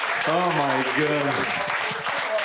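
A comedy show audience applauds, a dense wash of clapping filling the room while an excited voice exclaims over it at the start.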